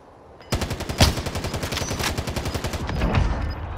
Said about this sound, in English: Someone was shooting over here.